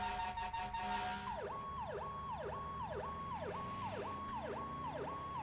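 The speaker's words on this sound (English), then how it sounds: "I love the siren on this thing." Electronic siren on a fire truck in a GTA roleplay game, sweeping up and down in quick repeated wails that stay loud and steady throughout, with no talking.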